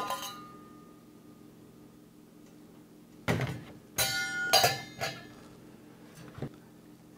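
A cheap Ozark Trail metal camping mess kit pot with a locking handle is handled after a quiet stretch, giving several sharp metallic clinks and clanks close up, spaced irregularly.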